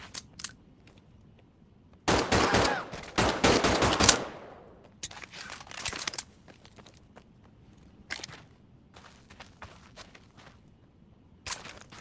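P08 pistol fired in Medal of Honor: Above and Beyond, a fast cluster of loud gunshots over about two seconds, followed by scattered clicks, reload handling and footsteps, with one more short shot burst at the end.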